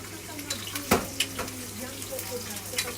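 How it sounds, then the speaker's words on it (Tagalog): Onions sautéing in a pan for sinigang sa miso give a light sizzle with scattered clinks of a utensil and a sharp knock, while someone talks nearby. "lantahin natin ang paggisa ng sibuyas para lumabas ang kanyang aroma"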